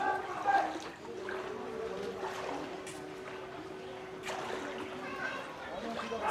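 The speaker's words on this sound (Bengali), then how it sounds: "এখন হাঁটু জল ক্রস হয়ে গেছে" Close, steady sloshing and spattering of feet wading through knee-deep floodwater on a flooded pilgrimage road in Vrindavan, with a constant low hum underneath and a voice talking over the splashes.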